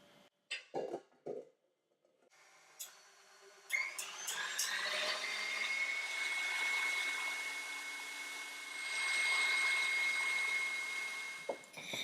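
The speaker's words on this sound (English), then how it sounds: "I'm just going to beat it for another 2 minutes on high speed." A stand mixer beats cream cheese and icing sugar on high speed, whirring in a steady, loud, high-pitched drone that holds for several seconds after a few brief clicks and knocks.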